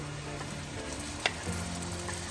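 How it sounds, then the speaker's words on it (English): Pureed tomatoes hit a hot pan for biryani and fry with a soft, steady sizzle, one brief sharper crackle standing out midway, no voices. "Now I'm going to add the pureed tomatoes."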